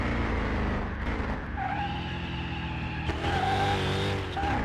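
Race car braking hard on a track in Car Mechanic Simulator 2021, a loud continuous engine roar dropping in pitch with a tire squeal layered on top, sustained and close throughout.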